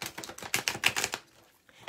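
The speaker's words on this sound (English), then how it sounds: "Okay, let me shuffle." Playing cards being shuffled, a quick burst of close, crisp riffling clicks for just over a second, then near silence.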